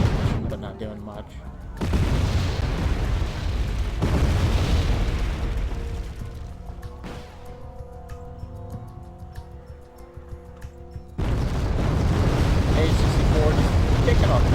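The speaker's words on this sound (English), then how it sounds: "Bombing that position, but not doing much." Heavy bombing explosions in a war video game, loud rumbling blasts in long swells with a quieter stretch between, and a voice talking over them.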